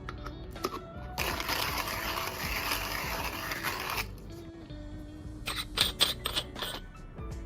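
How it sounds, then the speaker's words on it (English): A HiBREW G4B hand grinder crunching through a few grams of coffee beans, a dense gritty burst of several seconds standing alone, followed by scattered clicks and handling knocks. "Whenever I get a new hand grinder, I like to test it by grinding a few grams to verify the grind size"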